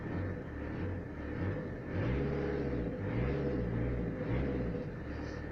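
A Renault Express engine started and left idling, a steady low rumbling purr with slight rises in revs, close and continuous throughout.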